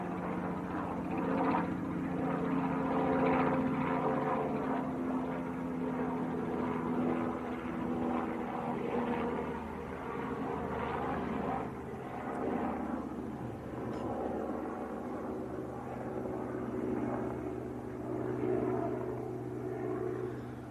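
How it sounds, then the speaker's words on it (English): A Robinson R44 helicopter flies near the airfield at Manchester Airport, its steady rotor and engine drone holding throughout without a break and with no voices. "This is Golf Oscar Hotel Alpha Mike, a Robinson R44."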